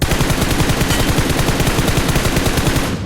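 Sustained rapid automatic gunfire in the video game PUBG Mobile, loud and close, rattling continuously for about three seconds with dense repeated bursts and no voices.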